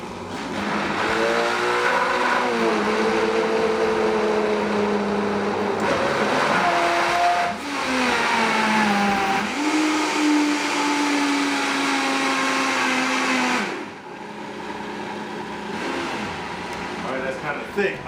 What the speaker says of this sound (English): I'm gonna blend this all together to make my cheese sauce